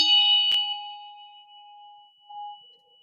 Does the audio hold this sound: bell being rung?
yes